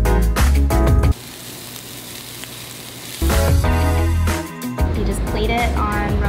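Spicy lettuce wrap filling is stirred in a hot pan with a loud, steady sizzle that cuts out briefly and then returns, with clattering utensil scrapes.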